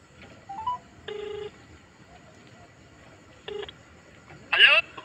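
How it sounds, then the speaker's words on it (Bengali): Phone keypad tones beep as a mobile call is dialed: a few separate dialing tones spaced apart, then a short brighter chirp, all fairly faint over a quiet background. "মামাকে একবার ফোনটা করে দেখি।"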